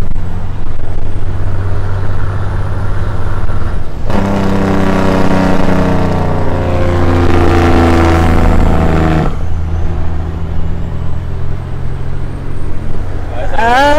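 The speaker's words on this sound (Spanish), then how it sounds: "te voy a hacer más una muestra, ya a una velocidad normal cuando se aplica el freno" A truck's engine brake kicks in while driving at normal speed, a loud, harsh, rapidly pulsing roar that rises suddenly over the steady road and engine drone, holds for about five seconds, then drops away.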